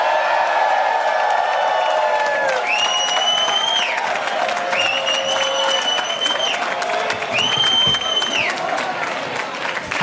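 A rowdy evening crowd at an LGBT Pride celebration claps and cheers loudly and continuously, with drawn-out whooping, whistle-like cries rising and falling above the wash of applause.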